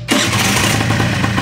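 A repaired car engine catches abruptly and settles into a loud, steady idle close by, with no talking over it.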